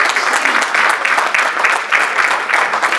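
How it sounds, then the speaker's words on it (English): A crowd at a journalist mentoring program graduation dinner claps after an award announcement. The applause is loud, dense and sustained, with many overlapping hands and no speech over it. "Give him a big round of applause."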